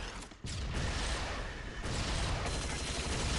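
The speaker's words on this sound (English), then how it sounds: "I cannot shoot them with this missile launcher." A missile launcher fires in the game Phosphor: a dense, loud burst of blasts and rushing noise that cuts out briefly, then surges again and roars on steadily to the end.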